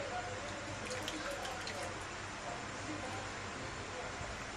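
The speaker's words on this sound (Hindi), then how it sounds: "अभी पानी से अच्छे से हम इस तरह निचोड़ लेंगे पानी को" Water squeezed by hand out of soaked gram-flour dahi bara fritters, heard as soft, faint dripping and trickling over a steady low background hiss.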